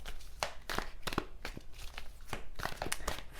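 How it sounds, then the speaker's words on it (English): A deck of tarot cards being shuffled by hand, giving soft crinkling riffles and quick papery snaps in an irregular rhythm, close and fairly quiet, with no talking. "Let's do some shuffling for Libra."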